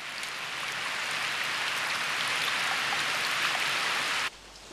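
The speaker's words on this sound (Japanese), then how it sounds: "雨か" Steady, dense rain falling in an anime scene, a loud continuous hiss of drops that holds evenly for about four seconds before cutting to a quieter background.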